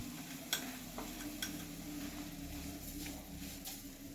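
Bottle gourd halwa with milk and sugar is stirred in a pan, giving a faint continuous simmer and low hum with occasional soft scrapes and taps of a spoon against the pan.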